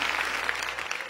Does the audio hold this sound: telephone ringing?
no